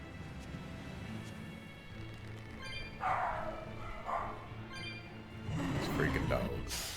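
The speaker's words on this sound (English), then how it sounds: "These freaking dogs." Dogs bark and yip a few times in the background of an indoor room, fairly distant and faint, with a steady hum and room noise underneath and no one speaking.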